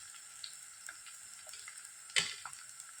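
Garlic with its greens, ginger and cut chillies frying together in a pan for a Kerala-style saaru, a faint soft sizzle with scattered light ticks and one sharper clatter of a spoon partway through.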